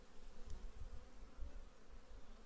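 Carniolan honey bees buzz inside an opened hive during an early-spring colony check, a faint, low, wavering hum heard close up and continuously, with no voices.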